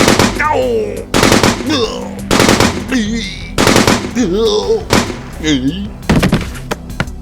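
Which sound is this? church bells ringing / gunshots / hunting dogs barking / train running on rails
gunshots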